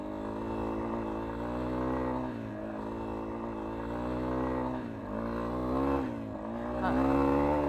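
A Yamaha XT250 motorcycle rides and accelerates on a dry trail, its single-cylinder engine droning in a steady, harmonic buzz that rises and dips with throttle changes.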